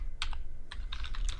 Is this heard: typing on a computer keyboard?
yes